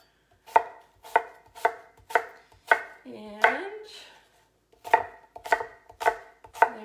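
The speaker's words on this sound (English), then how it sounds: "Just chopping it quickly." A knife chops a Pink Lady apple on a board in a steady run of crisp, close thuds, broken briefly by a short spoken word.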